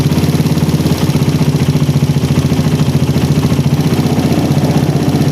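A motorcycle engine fitted with a PWK carburetor runs loud and close in a steady, pulsing idle with a fast regular beat. The engine holds at a constant level with slight clatter and no voices.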